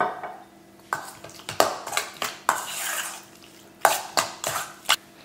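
Chicken with soy sauce and pepper powder is mixed in a pan, giving a series of close, irregular clinks and scrapes of a spoon against the metal at a moderate level, with no talking.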